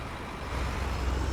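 A Steiger tractor engine in Farming Simulator 19 holds a low, steady diesel rumble that swells slightly louder midway, with no talk.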